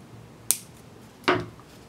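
Two crisp, close snips cut beading wire, the second a little longer than the first, with quiet pauses around them.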